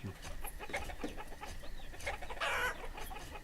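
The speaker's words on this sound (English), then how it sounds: "The chickens are out of the pen laying eggs." Chickens clucking in the video game Banished, a run of close, fairly quiet clucks and short calls in quick irregular succession.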